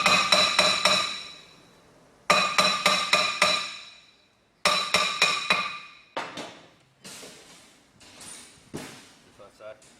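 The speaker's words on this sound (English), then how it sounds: "If you are replacing the rotor, you can hit on the actual rotor" A hammer strikes a stuck brake rotor in three quick bursts of four or five sharp metallic clangs each, ringing and close, followed by a few slower, duller knocks.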